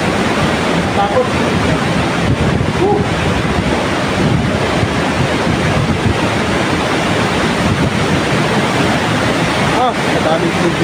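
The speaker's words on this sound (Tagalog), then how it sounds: "Madaming tubig." Loud, steady rushing of water at Wawa Dam in Montalban, Rizal, Philippines, a constant roaring wash with wind buffeting the microphone throughout.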